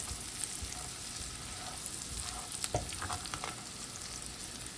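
Butter melts into onions in a skillet, giving a steady, quiet sizzle and crackle with a few soft stirring scrapes, close by and alone.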